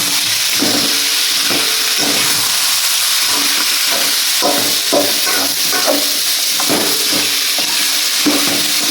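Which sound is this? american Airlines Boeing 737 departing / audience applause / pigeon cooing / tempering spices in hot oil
tempering spices in hot oil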